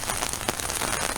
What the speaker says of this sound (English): Ooh, and we're going out into the rain.